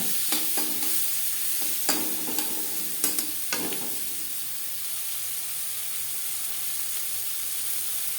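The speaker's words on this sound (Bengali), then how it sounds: "লবণ হলুদ পেঁয়াজ রসুনের সাথে মিক্স করে দেব" Onion and garlic with salt and turmeric stirred in a hot pan for a jackfruit and prawn curry, a steady hissing sizzle with a cluster of spoon scrapes early on before it settles; no voices.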